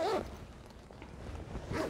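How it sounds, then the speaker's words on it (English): A fabric garment bag holding a wedding ball gown is zipped up close by: a quick zipping rasp at the start, a quieter stretch, then another short zip pull near the end. "now I'm gonna put my hand behind the zipper to go fast like this"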